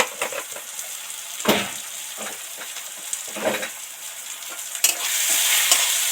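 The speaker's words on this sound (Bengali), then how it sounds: "সব মশলাগুলো ভাজা ভাজা হয়ে গেছে" Ground spices and a pinch of sugar fry in oil for a fish curry while a spoon stirs them, giving a constant sizzle broken by several sharp scraping strokes close by, with no talk.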